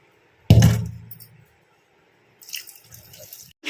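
Household items being washed under running water in a home kitchen, with a sudden loud splash and gush early on, a quiet pause, then softer trickling and rinsing sounds returning near the end.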